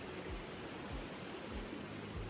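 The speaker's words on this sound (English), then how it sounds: "I sit there and listen to the sound of the running water in the creek." A creek's running water makes a steady, quiet broadband rush, with a few soft low thumps recurring beneath it.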